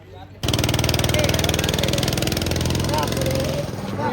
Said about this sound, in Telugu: ఇప్పుడు మోటో వ్లాగింగ్ కాస్త గో కార్టింగ్ రైడింగ్ అయితే అవుతుంది అనమాట.